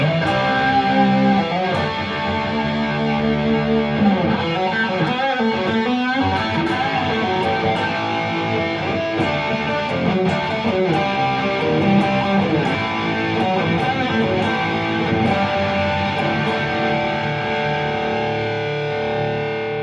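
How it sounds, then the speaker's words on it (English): A Guild S-70 electric guitar with DiMarzio pickups plays through heavy distortion, sustained overdriven chords and riffs ringing loud and continuous for the whole stretch, with no voices. "I'm gonna put some distortion on it and play a little bit."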